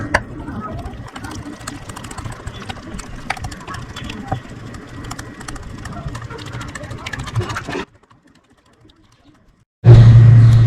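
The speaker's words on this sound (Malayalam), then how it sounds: "ഇതെല്ലാം കൂടെ നന്നായിട്ടൊന്ന് ബീറ്റ് ചെയ്യണം." Popcorn chicken batter ingredients being beaten together in a bowl, a steady mechanical whirring and rattling for about eight seconds that cuts off abruptly, followed by near silence and then a louder burst.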